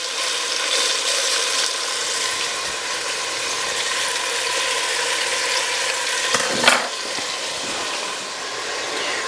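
Beef browns in a hot pan for a Mexican carne guisada stew, a continuous sizzle and crackle heard close and steady, with one sharper scrape or clatter near the end.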